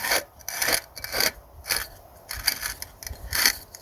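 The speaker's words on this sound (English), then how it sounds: "And it is the right filter, so it slides on easy and perfectly." An oil filter is pushed onto its mount and turned by hand, producing a series of short, rhythmic rasping scrapes and rubs, close and fairly quiet, repeating about every half second with no voices.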